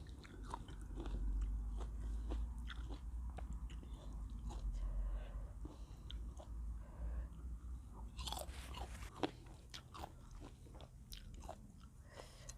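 Someone biting and chewing fresh fruit up close, with moist crunching chews repeating throughout and a sharper, louder crunching bite near the end, with no talking.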